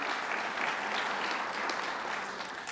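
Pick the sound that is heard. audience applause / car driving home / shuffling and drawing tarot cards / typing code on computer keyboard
audience applause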